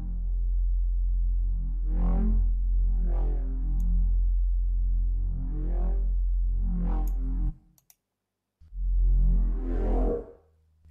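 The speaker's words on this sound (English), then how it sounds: "Let's throw in just a stock reverb." A short sound passed through a stock reverb effect with roughly 700 ms decay, five rhythmic pulsing hits each trailing into a brief wash, a short silence, then one more burst.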